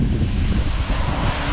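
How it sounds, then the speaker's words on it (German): Storm-force wind on the North Sea coast during a hurricane-strength low, a steady loud roar buffeting the microphone with no break and no voices. "Wir befinden uns gerade an der Nordseeküste bei einer Windstärke 10 bis 35."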